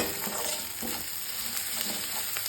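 Tomatoes fry in a hot pan for chicken kosa, giving off a loud, steady, close sizzle with a few soft stirring scrapes and no voices.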